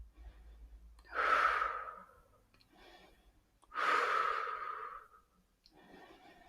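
Slow, deep breaths during a seated yoga stretch, two long audible exhalations close to the listener, each followed by a softer intake, with no talking.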